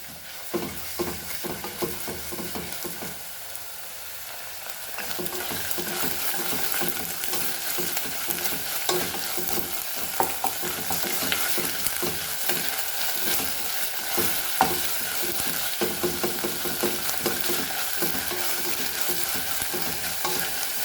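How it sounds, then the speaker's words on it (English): Potatoes fry in a pan for a Goan cafreal dal, a steady close sizzle broken by frequent scraping strokes of a spoon stirring them, continuing for about twenty seconds with no talking. "And fry this very nicely."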